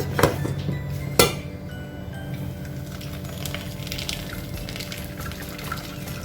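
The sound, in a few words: beetroot cucumber juice strained through a strainer into a pot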